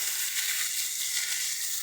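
Steady, bright sizzling of bitter gourd and lentils hitting hot oil with browned onions in a pan, a continuous hiss without pauses.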